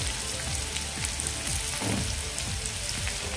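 Sliced bitter gourd frying in a pan over a low gas flame, a steady close sizzle with soft crackles and a brief scrape of stirring midway, no voices.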